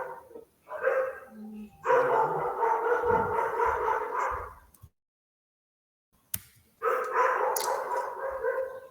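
Dogs bark and whine in two loud, close, sustained bursts separated by a short silent gap.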